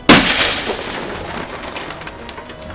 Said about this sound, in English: All of a sudden, the glass cracked,